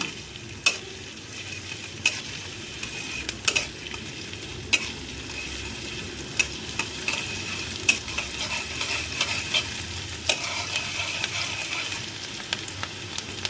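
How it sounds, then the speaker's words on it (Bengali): Fish dropped into hot oil with fried onions in a pan, a steady sizzling frying hiss with sharp clicks of stirring now and then, close and continuous, no voices. "পেঁয়াজটা আর তেলটা একটু গরম হয়ে গেলে তারপরে এর ভিতরে আমি মাছ দিয়ে দেব"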